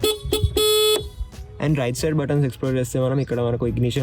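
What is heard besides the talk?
Suzuki Access 125 scooter horn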